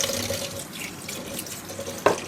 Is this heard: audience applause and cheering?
no